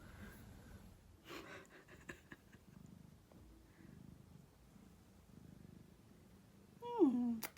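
A cat purrs close and quietly, a soft steady rumble running for several seconds, broken at the end by a brief louder vocal chirp.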